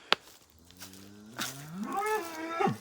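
Cows on a farm moo in long, drawn-out calls, one low moo followed by a rising, louder bellow, with a sharp click early on and quiet outdoor background.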